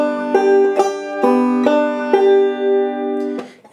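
A short banjo lick with pull-offs and downstrokes, a handful of bright plucked notes ringing in quick succession then sustaining, played close and clear without any voice.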